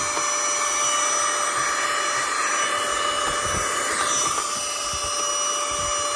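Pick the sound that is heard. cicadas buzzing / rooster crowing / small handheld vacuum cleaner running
small handheld vacuum cleaner running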